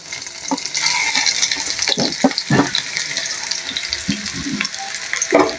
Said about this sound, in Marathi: तर आता मी तेलात लसूण टाकतोय आणि हा कांदा पण तेलात टाकून देतोय